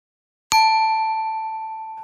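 A single clean notification ding strikes once, bright and close, with pure ringing tones that sustain and fade slowly over about a second and a half. No other sound is present.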